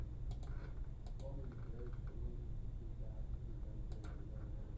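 Sharp mouse clicks, a few at a time, made while tracing a polygon along a plate boundary on a computer screen, standing out over steady background hum with faint voice murmur.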